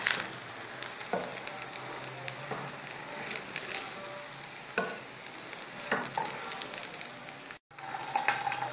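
Kebabs made from leftover curry fry in a pan with a steady low sizzle, broken by occasional scraping and stirring knocks, close and moderately quiet, with no talking.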